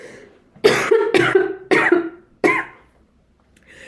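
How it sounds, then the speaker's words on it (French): A man coughs four times in a row, sharp, close bursts each trailing off in a raspy tail, ending in a short quiet pause. "Excusez-moi, j'ai envie de tousser."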